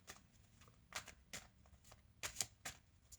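Tarot cards shuffled by hand ahead of a three-card triad spread, giving a quiet series of soft riffles and slaps in uneven bursts close to the listener, with no voice.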